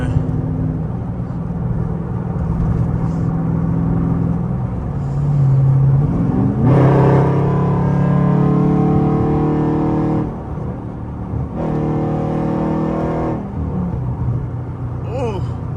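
A Dodge Charger Scat Pack with a catless exhaust and redone mid pipes rumbles loudly from close by, its revs rising and falling in deep surges, with talking at times.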